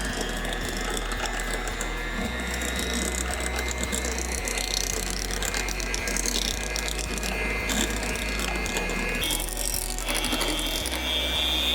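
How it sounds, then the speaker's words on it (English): An electric hand mixer whirs steadily on its low setting, beating plant-based pumpkin fluff in a bowl, a continuous mechanical hum with gear rattle that runs close and unbroken throughout. "we're gonna put our hand mixer in, and we're gonna start it on a low setting"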